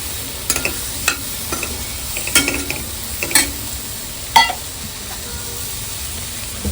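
Potatoes being stirred into a Malvani cashew masala, a steady close sizzle broken by several scraping strokes and light clinks of the spoon against the pan.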